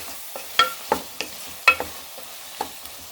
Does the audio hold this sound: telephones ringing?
no